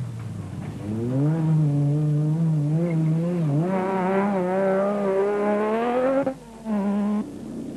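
Nissan rally cars race in the Limpopo 400, a loud engine revving up through the gears in a long rising whine, dipping briefly near the end before resuming, with no talk.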